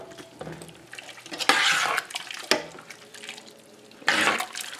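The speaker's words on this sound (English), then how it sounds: "I'm putting my ground beef, onions, and peppers in there." Ground beef, onions and peppers going into a pot of boiling taco soup, with wet splashing and sloshing in several bursts and clinks of a utensil against the pot, close and fairly loud.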